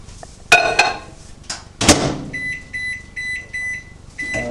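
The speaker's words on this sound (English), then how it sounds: "you want to put it in the microwave for about 40 seconds" A microwave oven heating hot chocolate: the door clunks and bangs shut, keypad buttons beep several times in quick succession, and the oven starts up, all close and without talk.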